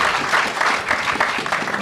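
Audience applause fills a hall during a political talk, a steady wash of clapping hands that stays dense and even throughout without anyone speaking.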